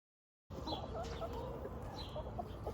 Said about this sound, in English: Got a whole little chicken village over here with a bunch of different coops.